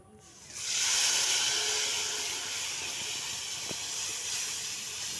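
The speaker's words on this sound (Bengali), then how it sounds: "এবার আমি মশলাটা দিয়ে দিলাম।" Spices hit hot oil in a pan while cooking a ginger-based masala, letting out a loud, steady sizzling hiss that starts suddenly and holds strongly before settling slightly, with no talking.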